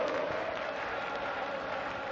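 A darts crowd at the 2017 German Darts Open sings a player's name, a steady, distant roar of many voices holding a sustained tone without a break.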